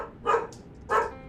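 Two sharp dog barks, spaced about half a second apart, close and clear over a quiet room background.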